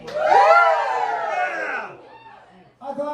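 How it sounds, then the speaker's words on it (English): A large crowd screams and cheers loudly for a few seconds, whoops and shouts swelling then tapering off, followed by a short burst of talk. "this is where you scream and cheer for yourselves."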